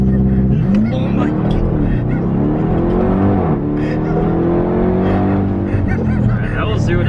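Dodge Durango Hellcat SUV launching hard from 0 to 60 mph, its supercharged engine roaring and rising through gear shifts with audible whine, loud from inside the cabin, with excited voices talking over it.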